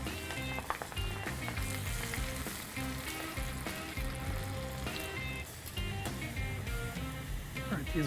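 Bacon, onions and chilies fry in hot peanut oil with a steady, busy sizzle and crackle, occasional pops and stirring clinks throughout.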